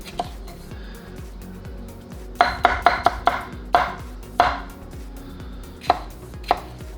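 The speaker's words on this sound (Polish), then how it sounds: "kroję to byle jak, byle na mniejsze kawałki" A knife chops vegetables into small pieces on a board while sauce vegetables such as carrot, parsley and pepper are prepared. A quick burst of close, crisp chops is followed by a few spaced strikes.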